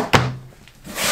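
Oven drawer in the kitchen of a 2022 Jayco Whitehawk 27RB travel trailer shutting with a single firm thunk and a brief low ring, close and fairly loud, followed by quiet.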